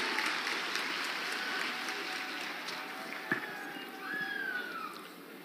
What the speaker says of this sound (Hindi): जोरदार तालियां उनके लिए होनी चाहिए